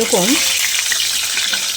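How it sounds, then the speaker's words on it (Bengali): Potatoes frying in hot oil for echor kosha, a Bengali jackfruit curry, give a steady close sizzle and crackle that runs the whole time, with a brief stir or clink near the start and no talking. "ঠিক এইরকম লাল লাল করে আলুগুলোকে ভেজে নিতে হবে"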